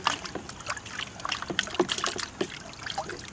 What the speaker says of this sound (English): A little water in there. Just rinse them out.